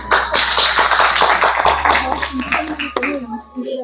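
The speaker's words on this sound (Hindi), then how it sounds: "एक बार इनके लिए तालियां हो जाए।" A crowd gathered among disabled people in Sitapur claps together, a dense run of hand claps mixed with talk and cheering that thins out toward the end.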